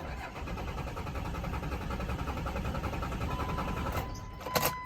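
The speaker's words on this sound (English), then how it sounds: "the truck doesn't want to start" A Cummins diesel pickup truck engine with a fuel problem cranks steadily without catching, an even droning churn that continues for several seconds before a few sharp clanks near the end.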